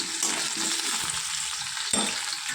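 Potatoes frying in oil in a pan, a close, continuous hissing sizzle with a brief stirring clatter partway through and no talk.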